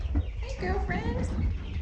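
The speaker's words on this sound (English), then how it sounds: "This is where the little chickens are." Chickens cluck softly and continuously at close range, with low rumbling handling noise underneath.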